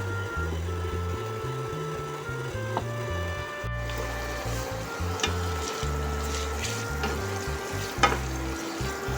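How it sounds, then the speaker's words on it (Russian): Chopped onion frying in a pan for a liver and potato dish, a steady close sizzle with occasional stirring scrapes and light clicks, no voices. "Обжариваю лук"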